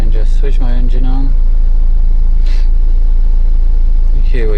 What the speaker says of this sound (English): Can just switch my engine on.